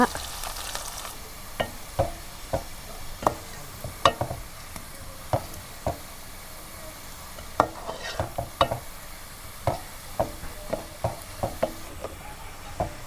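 Green chillies, curry leaves and onion frying in a pan for Kerala-style fish pickle, with steady background sizzle and repeated sharp clinks and scrapes of a spoon stirring throughout; no one speaks.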